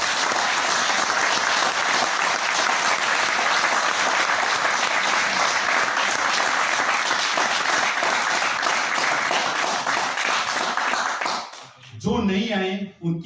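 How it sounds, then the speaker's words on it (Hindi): An audience at a network marketing training event breaks into loud, sustained applause that fills the room for about eleven seconds, then fades out, with a voice speaking briefly at the end. "एक बार शानदार ताली आप लोगों के लिए।"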